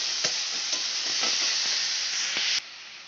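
Close, steady sizzling of chopped onions frying in a pan for methi chicken, with occasional stirring knocks, the hiss dropping abruptly just before the end.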